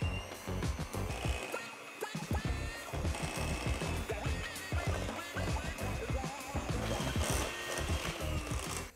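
An electric mixer beats cream cheese as powdered erythritol is added a little at a time, producing a steady, busy whirring with rapid irregular clatter from the beaters against the bowl, continuous throughout.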